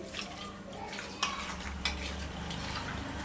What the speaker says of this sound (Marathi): चोळून घ्यायचं आहे हे बघा आणि छान असं मिक्स करून